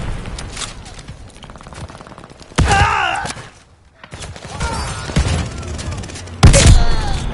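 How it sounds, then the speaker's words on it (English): Bombing run explosions in a video game battle: heavy booms and thuds crash in two loud bursts amid ongoing gunfire, with shouted voices over the chaotic mix. "Friendly bombing run inbound!"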